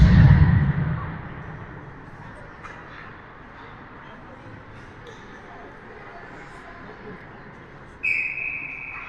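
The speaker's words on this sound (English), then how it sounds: "they finally blew the whistle" A referee's whistle at an ice hockey game between the Outlaws and the Kings gives one short, sharp blast near the end, after several seconds of steady rink ambience.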